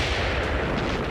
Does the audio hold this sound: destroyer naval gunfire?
yes